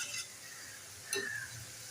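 Chopped onions frying in oil in a pan for crispy fried onions, a soft steady sizzle with a brief stirring clink near the middle.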